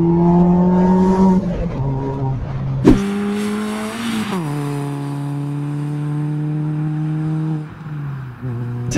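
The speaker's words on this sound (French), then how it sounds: "On a vraiment un son de rallye" A Peugeot 206 CC fitted with a stainless 4-into-1 exhaust header revs loudly and close up, with a raspy, rally-style tone. The engine climbs and drops in pitch several times, then holds a steady high idle.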